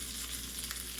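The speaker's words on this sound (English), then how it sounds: "Oh, feel that sizzle of the pan." Steady, close sizzling of eggplant frying in a hot pan, a continuous crackling hiss with small pops and no voices.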